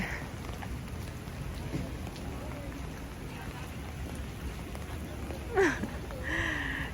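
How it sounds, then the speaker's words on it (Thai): Rain falls on a royal flower garden in Stockholm as a soft, steady patter of drops, faint and continuous, with a voice briefly heard over it. "จะบอกว่าฝนมันตก"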